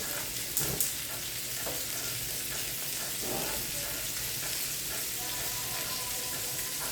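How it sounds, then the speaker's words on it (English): Sausages and patties fry in a pan with a steady, close sizzle and crackle that runs throughout, broken by a few faint clinks and stirring sounds. "These are my sausages, my patties as they're cooking"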